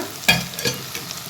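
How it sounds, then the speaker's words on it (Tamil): Spices and chilli powder sautéing in a pan for Tamil-style egg curry, with a soft sizzle and two or three brief scraping stirs over a quiet background, no voices. "இதை வந்து நல்லா வதக்கிக்கோங்க."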